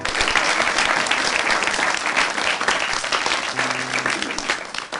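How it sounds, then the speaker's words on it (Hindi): Audience applause in a television studio, loud, dense and sustained clapping throughout, easing only slightly toward the end. "बहुत बढ़िया ईशान, बहुत बढ़िया साक्षर, इनके लिए जोरदार तालियां।"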